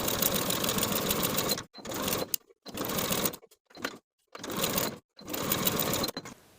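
A sewing machine stitches a seam with a 1/2 inch seam allowance in several steady bursts of rapid whirring, stopping and starting with short silent gaps between runs.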